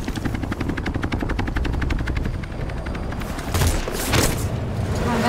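A helicopter flies in the military shooter game Battlefield Bad Company 2, its rotor chopping in a fast, steady beat, with bursts of gunfire and explosions over the blades toward the end.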